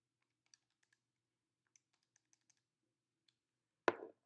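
Light keystrokes tap on a computer keyboard, sparse and faint in a quiet room. A sharper, louder clack lands near the end.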